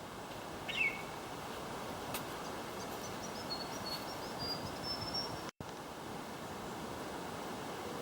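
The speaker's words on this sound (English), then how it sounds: "The birds are starting, they're waking up themselves." Faint birdsong at dawn in a bush gorge near a creek and waterfall, a few thin chirps and whistled phrases over a steady rushing background of falling water.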